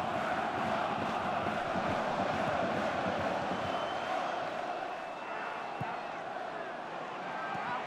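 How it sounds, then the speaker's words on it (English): A dense, roaring Middlesbrough football crowd fills the stadium during a match against Sunderland, a constant wash of chanting and shouting from thousands of fans. It stays loud and sustained throughout, with a commentator's voice over it. "you can hear the Middlesbrough crowd, they're sensing it"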